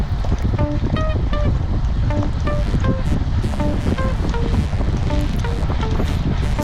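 Heavy wind buffeting a microphone while cycling on a road in cold weather, a constant loud roar with no pauses, and a faint tonal ringing pattern riding along in the background.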